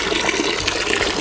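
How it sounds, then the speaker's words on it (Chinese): Mountain spring water running over freshly gathered river moss as it is rinsed by hand, a steady close splashing, gushing flow lasting about a second with no talk. "然后现在再用我们这边的留了几百年都没有断过的山泉水给他们洗一下"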